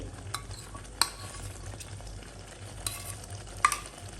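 Spiced yogurt added to a pan with tomato purée for dum aloo and stirred: a soft, low sizzle runs underneath, broken by a few sharp spoon knocks against the pan.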